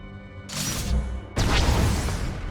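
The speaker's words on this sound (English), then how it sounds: "That's the sound of my flux cannons incinerating one of your capital ships." Flux cannons fire on a capital ship in the Star Wars: The Old Republic video game, two heavy booming blasts with crashing tails, the second harder and sustained.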